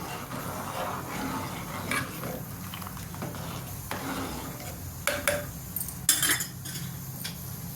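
A spoon scrapes and clinks against a pot while country chicken curry is stirred, steady metallic scraping with a few louder knocks toward the end, no talking.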